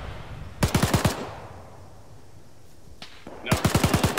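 Machine gun fire in a World War II video game, two loud rapid bursts of about five shots each near the start and end, separated by a quieter stretch with a single faint crack.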